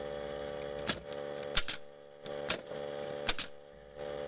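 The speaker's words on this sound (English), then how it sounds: "I'll fire all the nails in quick succession without giving the compressor any kind of break to recover" A pneumatic nail gun running off a Central Pneumatic 3-gallon compressor fires nails in quick succession, sharp close snaps about once a second over a steady mechanical hum.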